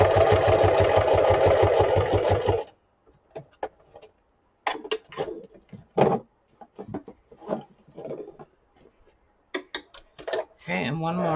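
A sewing machine stitches steadily and loudly through a junk journal's book-spine pages for about two and a half seconds, then stops; sparse clicks and handling taps follow.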